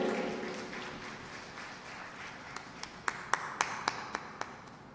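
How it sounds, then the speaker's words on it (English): Audience applause for Neha Selhi at a NIFT Hyderabad homecoming event: a soft, fairly distant wash of clapping, with a handful of sharper, closer claps near the end. "please give a round of applause to Neha Selhi"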